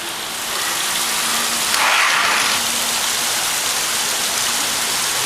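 Steady rain falls outside an apartment in a broad, even hiss that runs the whole time after a brief quieter start, with a slight swell near the middle and no voices.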